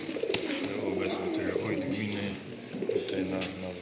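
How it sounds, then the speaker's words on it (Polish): Racing pigeons coo softly in repeated low murmurs at an indoor pigeon show, with people talking and a busy indoor hum around them. "Tu jest gołąbek."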